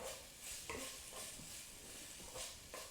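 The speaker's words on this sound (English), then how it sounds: "I saute that a little bit with my vegetables just to get the flavor going" Vegetables sautéing in a pot for lentil soup, a steady soft sizzle with faint stirring scrapes, quiet and close, with no voices.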